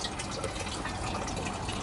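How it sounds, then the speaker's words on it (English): A pump fills a hydroponic watercress tank with water, giving a steady, close gushing and bubbling pour with no voices. "it only took 2 minutes and 30 seconds for the pump to get the water up to the level that I wanted it"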